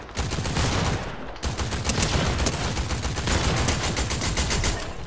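Shotgun gunfire in Fortnite crackles in rapid, dense bursts of sharp shots, loud and close, nearly continuous after a brief pause early on, with no talking.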